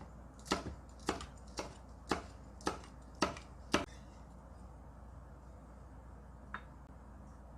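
Seven crisp knife chops through a green chili on a cutting board in a Korean kitchen, evenly spaced and close, followed by a single faint tap and quiet room tone.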